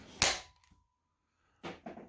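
A Nerf rocket pistol launches foam rockets: a sharp pop followed by two quicker pops a second and a half later, close and crisp in a quiet room.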